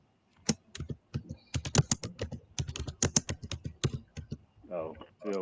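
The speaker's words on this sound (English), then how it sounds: "Oh, Phil, what you typing?" Rapid typing on a computer keyboard, with a dense run of close, crisp key clicks and a voice starting at the end.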